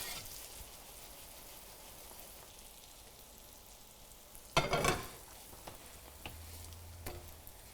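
Buns for lobster rolls toast in butter in a pan with a faint, steady sizzle, a brief louder crackling burst in the middle, then light clinks and a low hum as the pan quiets.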